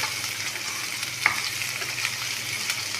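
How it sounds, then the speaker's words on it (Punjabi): Onions frying in a pan for a Punjabi dhaba-style moong masoor dal, a steady close hiss of sizzling with light stirring scrapes and a single sharp clink, no talk. "ਹੁਣ ਆਪਾਂ ਪਾਵਾਂਗੇ ਪਿਆਜ਼ ਜਿਹਨੂੰ ਆਪਾਂ ਹਲਾਉਂਦੇ ਹੋਏ ਚੰਗੇ ਤਰੀਕੇ ਨਾਲ ਭੁੰਨਾਂਗੇ"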